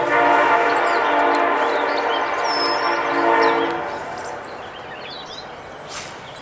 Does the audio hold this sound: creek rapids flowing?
no